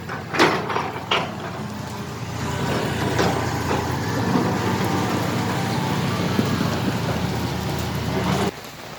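Steady heavy rain pouring down, a dense continuous hiss with a few louder knocks near the start, no voices.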